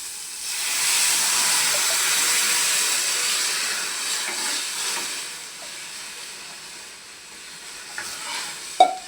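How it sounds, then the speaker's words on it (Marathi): Water poured onto sizzling fried spices for Marathi-style shev bhaji raises a loud, steady hiss and steam that gradually eases, ending with a brief clink of a utensil. "आपण आता लागेल तिथं पाणी घालूया."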